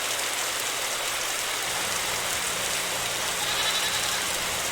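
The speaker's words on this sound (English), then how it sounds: "I hear sheep." Heavy rain hisses steadily in a storm inside the video game Evie, with sheep bleating faintly somewhere beneath the downpour.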